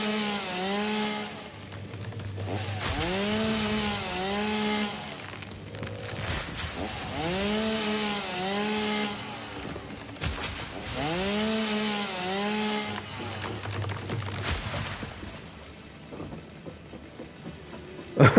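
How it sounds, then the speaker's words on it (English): Chainsaw in the Satisfactory video game: repeated revving bursts, each rising and falling in pitch, sound loud and close with short gaps between them. "She still climbs with the chainsaw?"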